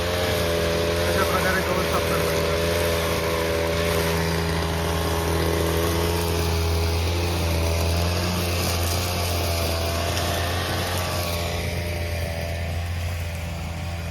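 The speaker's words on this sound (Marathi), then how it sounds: "बघा मित्रांनो ते गवत काढायची मशीन" A steady engine drone with a low hum runs throughout from a grass-cutting machine working nearby on a village farm, with faint voices in the background.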